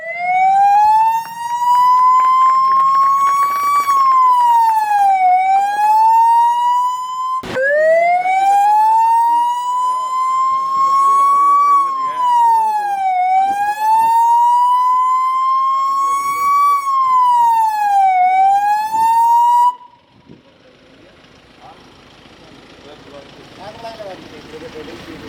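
A 1033 NHAI emergency ambulance siren wails loud and close in steady rising and falling sweeps for about twenty seconds at its inauguration, then cuts off abruptly, leaving faint background noise and murmuring.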